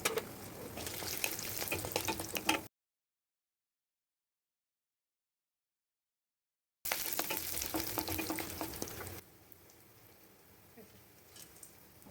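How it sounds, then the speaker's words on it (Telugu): Mustard seeds and spices tempering in about two teaspoons of hot oil in a pan already used for frying bitter gourd pieces, sizzling and crackling close by in two bursts separated by several seconds of silence, then fading to a low hiss. "నూనె వేడెక్కాక పోపు పెట్టండి"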